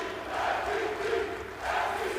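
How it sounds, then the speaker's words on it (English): A basketball arena crowd at a Basketball Champions League game between Falco Szombathely and Rytas Vilnius chants MVP, a loud massed roar that swells in two rhythmic waves. "you could hear the crowd actually shouting MVP just to confirm that"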